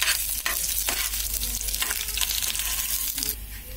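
Peanuts are stirred into a sizzling mixture in a pan for a potato and semolina breakfast dish, a steady close frying hiss broken by scraping stirs and light clatters throughout, with no voices.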